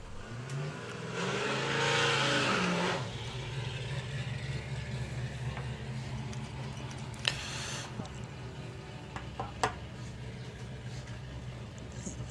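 A drag-racing Ford Escort in Street Eliminator trim on treaded rear tyres roars loudly for a couple of seconds and then fades into a steady background rumble, with commentary talk running over it.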